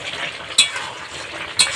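A spoon stirring jackfruit and prawn curry (echhor chingri) in a pan, a close, steady simmering sizzle with two sharp scraping clinks about a second apart.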